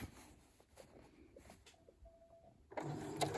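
A sewing machine on a French sewing project starts up after quiet handling noises, running steadily and fairly close for the last moment, following brief forward and reverse stitches to lock the seam.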